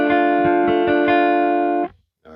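A single electric guitar chord rings steadily with a distorted tone for nearly two seconds, then cuts off before a brief faint resumption.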